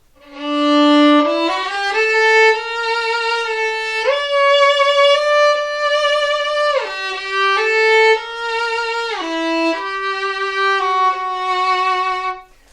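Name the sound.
violin playing with singing tone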